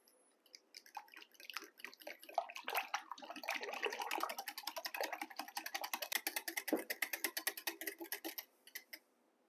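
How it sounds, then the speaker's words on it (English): Cream and vanilla extract being whisked in a bowl, a quick run of light clicking taps against the bowl that starts sparse, builds into a steady fast rhythm, then stops; close and fairly quiet with no talking. "Grab a whisk and start mixing."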